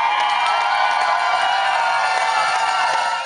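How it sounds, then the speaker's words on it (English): A packed crowd in the Buck Hill Bar in Minnesota cheers loudly for Lindsey Vonn's ski race, a sustained roar of shouts and whoops with flags waving and cowbells mixed in. "the crowd in the Buck Hill Bar erupted in cheers, waving flags and shaking cowbells"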